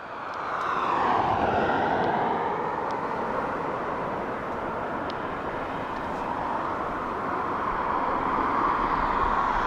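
A Ryanair jet from Nottingham at Dublin Airport roars loudly and steadily nearby, a broad jet-engine whoosh that holds strong throughout.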